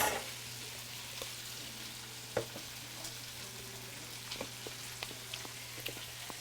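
Bok choy frying in teriyaki sauce in a pan, a soft, steady sizzle with scattered small pops and crackles, close and fairly quiet, with no talking.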